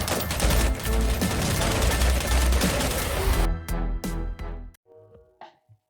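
Gunfire in the vampire battle royale game Bloodhunt: a dense, loud burst of rapid overlapping shots that breaks into a few separate sharp reports before trailing off.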